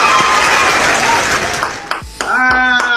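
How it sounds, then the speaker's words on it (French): Recorded applause and cheering played as a sound effect at a live concert, a dense crowd clapping loudly that cuts out briefly near the end, followed by a bright chiming tone and a voice over it. "mettez les acclamations"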